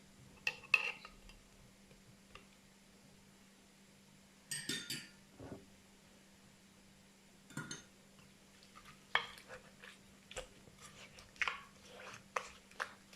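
Thai papaya salad with lime juice, tamarind juice and tomato mixed in a bowl, heard as scattered clinks and knocks of a utensil against the bowl, irregular and close, over a quiet steady hum.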